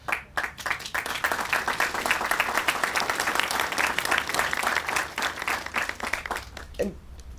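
Audience applause fills a memorial bridge dedication ceremony, a dense, steady round of many hands clapping close by that runs the full length, thinning slightly toward the end.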